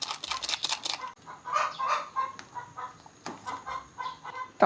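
A hen cackles after laying an egg, loud, close bursts of clucking that rise and fall in a choppy rhythm alongside faint household clatter.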